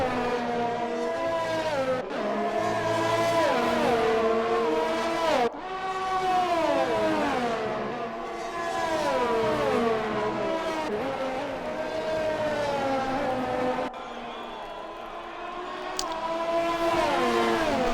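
Race car engines in an Xbox racing game on an Austrian circuit whine and rev continuously, with several overlapping engine notes rising and falling through gear changes and braking.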